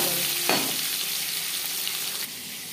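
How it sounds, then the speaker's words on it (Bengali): Marinated fish frying in hot refined oil for a Bengali fish curry, a loud steady sizzle heard up close that fills the whole clip, with a brief splutter as a piece goes in and a slight drop in intensity at the end. "রিফাইন্ড অয়েল গরম করে নিয়েছি। এবার দিয়ে দেব ম্যারিনেট করে রাখা মাছ।"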